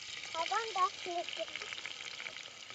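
Garlic, curry leaves and whole spices (cinnamon, cloves, star anise, black pepper) frying in oil in an open-air kitchen, giving a soft, steady sizzle with light crackle throughout.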